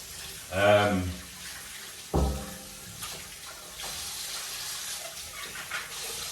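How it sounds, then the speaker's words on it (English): Very hot water runs from a tap for hand washing, a short splashing gush followed by another burst, then a quieter steady trickle. "So I'm just going to wash my hands"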